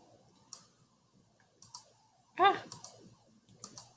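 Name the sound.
computer mouse clicking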